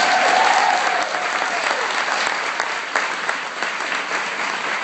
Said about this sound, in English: So can we just give them a huge round of applause?